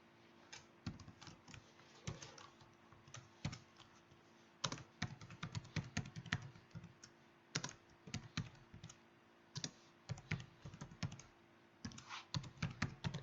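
Someone types a username on a computer keyboard while setting up MySQL, producing quiet, irregular runs of close key clicks with short pauses between bursts.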